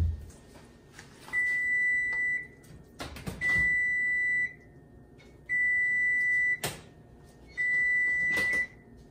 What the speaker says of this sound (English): Okay, our cake is getting ready to beep and come out.